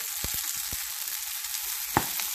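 Sweet potato gnocchi frying in ghee, a continuous hissing sizzle with scattered sharp pops and crackles, one louder spit near the end, no talking.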